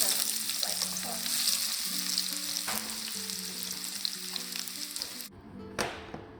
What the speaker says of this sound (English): We're going to put in onions to fry. It's going to splatter quite hot.